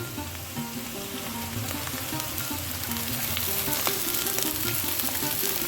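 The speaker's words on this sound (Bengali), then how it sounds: "সবজিগুলো যখন দেখো এই রকম পর্যায়ে ভাজা হয়ে আসবে না একটু লালচে কালার ধরবে অথচ ক্রাঞ্চি ভাবটা বজায় থাকবে" Mixed vegetables stir-fry in a hot pan for street-style chowmein, giving a constant loud sizzle with scraping stirs and clatter running throughout.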